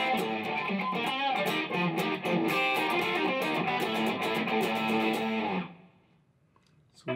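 An electric guitar plays the instrumental lead from a song, a bright, busy run of notes over a full band for several seconds, then cutting off into near silence.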